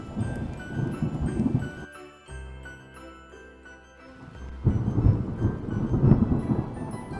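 Thunderstorm sound effect in an audiobook about a sinking ship in a storm: deep rumbling thunder rolls at the start and again near the end, framing a quieter, tonal musical passage in the middle, with no talk.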